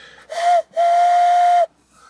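A voice imitates a steam train whistle: one short hoot, then a long sustained high whistle, loud and close, alone in a quiet room.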